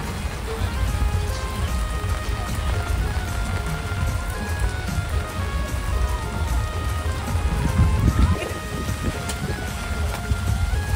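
Heavy rain falls during a crowded Navratri festival at a goddess temple in Kharoshi, making a dense, constant patter that stays loud and even throughout with a faint background murmur.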